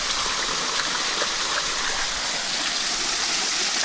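Steady rush of running water rinsing dirt off an old toy gun dug from a hole about eight inches deep, a continuous close splashing wash with no pauses.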